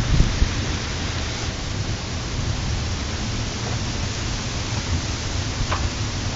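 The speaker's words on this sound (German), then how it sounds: "Ein richtiges Unwetter, Leute." A severe thunderstorm over Düsseldorf/Mettmann brings steady, loud rain with low thunder rumbling beneath it, along with a few sharper cracks. The downpour continues throughout, and no one speaks.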